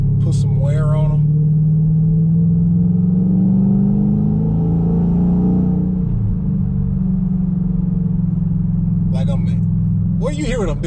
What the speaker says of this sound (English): I'm accelerating and I'm like gradually braking because I want to make sure I brake them in